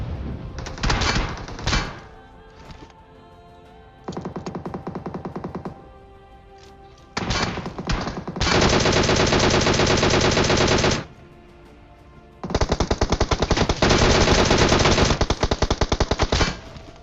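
Automatic gunfire from four enemies in the video game PUBG, loud rapid bursts of shots repeating in several long volleys with short quiet gaps between them.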